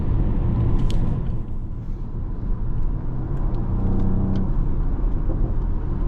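2021 Mercedes-AMG GLE 53 engine rumbling steadily from inside the cabin, with a few sharp exhaust pops and crackles cutting through the drone at scattered moments.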